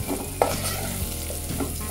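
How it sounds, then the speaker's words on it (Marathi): Onion, tomato and peanuts fry in a pan, giving a steady soft sizzle broken by a few scraping stirs of a spoon, close and moderately quiet, with no talking. "कांदा टमॅटो आपलं छान फ्राय झालेला आहे।"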